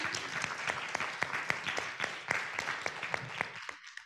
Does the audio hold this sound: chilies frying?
no